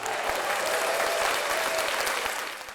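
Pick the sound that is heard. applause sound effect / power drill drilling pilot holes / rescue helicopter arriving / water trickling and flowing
applause sound effect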